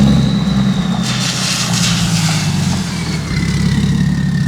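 A BMW X5d diesel engine with no exhaust fitted revs with a loud, continuous jet-like roar, holding a steady, close drone with a faint high whine.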